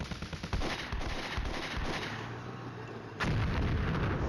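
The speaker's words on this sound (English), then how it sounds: "my artillery fell on the great big nothing" Artillery fire in the wartime strategy game Flashpoint Campaigns: Red Storm, a dense rumbling barrage of booming impacts and crackling blasts that swells and continues steadily.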